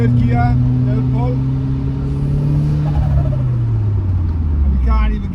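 A Ford car engine pulls in third gear, a loud steady drone that slowly sinks in pitch as the car moves on the road, with someone talking over it at the start and end.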